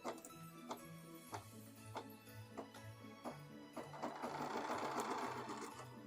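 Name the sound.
sewing machine stitching Santa socks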